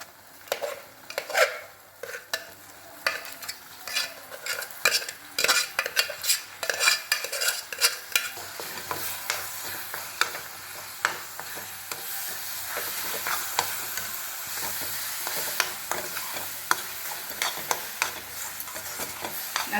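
Mashed chana dal and coconut filling are stirred in a pan, with repeated scraping and clacking of a utensil against the metal in an irregular rhythm over a soft sizzle, close by and without voices.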